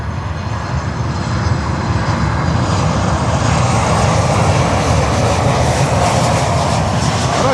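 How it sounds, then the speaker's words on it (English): Boeing 737 MAX 8 in special livery at Miami airport, a loud, close, continuous jet engine roar that swells slightly and holds steady, with no talk. "737 MAX 8 special livery"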